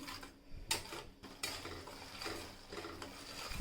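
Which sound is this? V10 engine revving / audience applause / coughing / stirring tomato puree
stirring tomato puree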